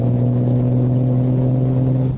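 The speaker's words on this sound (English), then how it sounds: "Your exhaust sound really good" Honda Goldwing motorcycle exhaust on a road ride, a loud, steady low engine drone with strong even harmonics that holds constant throughout, close and continuous with no talk over it.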